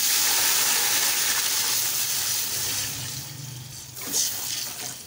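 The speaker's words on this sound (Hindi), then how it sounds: "और शामिल करते हैं इसके अंदर पानी" A steady rushing stream of water pours into a pot of fried spices for dal chawal, loud and close, easing off near the end with a brief splash.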